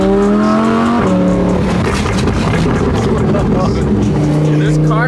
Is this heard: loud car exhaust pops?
yes